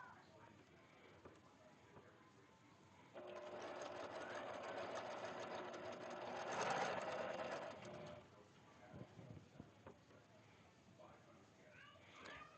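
A sewing machine runs a chain stitch in a steady whirring burst of about five seconds, swelling slightly toward the end, with quieter handling noises before and after.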